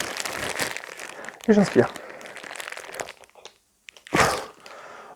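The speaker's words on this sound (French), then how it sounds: "Avec ce plastique, je viens recouvrir le masque et je vais aspirer de façon à plaquer le masque contre mon visage." Thin plastic sheet crinkles over an FFP2 filtering half-mask as it is pressed against the face, with short bursts of rustling and a loud crackle near the end, while a person speaks and inhales through the mask.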